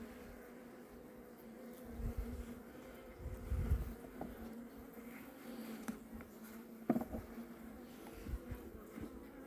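Honey bees hum around an opened hive at high altitude in late autumn, a soft continuous buzzing with faint handling thumps and rustles close by.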